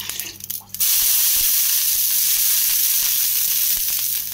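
Dosa batter hits a hot oiled pan for crispy masala dosa: a sudden loud, steady sizzle and hiss bursts in after a short quieter start and continues close and unbroken.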